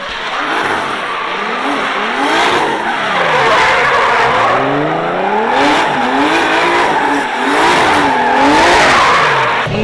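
A car drifts around a drift compound with tires squealing in long, wavering screeches over a revving engine, loud and close, rising and falling through several slides with no talk.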